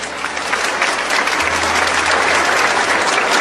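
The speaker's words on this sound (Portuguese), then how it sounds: "Vamos saudá-los com a salva de palmas." A church congregation breaks into loud, sustained applause for the poor members standing among them, a dense roomful of clapping that builds and holds steady.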